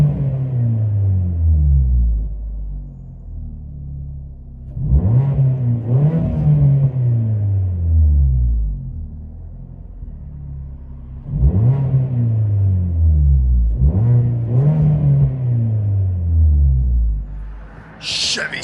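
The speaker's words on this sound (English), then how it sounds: "Chevy Sonic stick shift with vibrant muffler and resonator delete there" A 2012 Chevy Sonic with a manual transmission, Vibrant muffler and resonator delete, heard from inside the cabin: a steady low exhaust rumble at idle, broken by two bursts of revving that rise and fall, with a short blip near the end.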